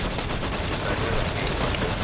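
Rifle fire in the video game LifeAfter, a dense, continuous barrage of shots that stays loud and unbroken throughout.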